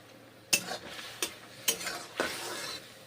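A spoon stirs mushroom curry frying in a pan with little oil and spice, giving four sharp scraping clacks against the metal over a soft, constant sizzle, close and without voices.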